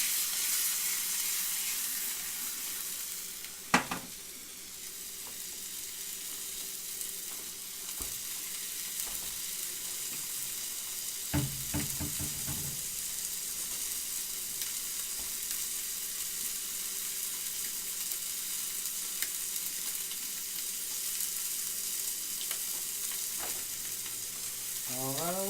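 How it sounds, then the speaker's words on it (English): Chicken cordon bleu searing in a very hot pan, a steady loud sizzle and fry that runs throughout, with a few brief clinks and stirring noises. "the hot pan. This is going to give us a nice golden sear."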